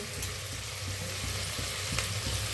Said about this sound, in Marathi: आता ही मटकी मी स्वच्छ धुवून घेतलेली होती त्याला मी भाजून घेऊया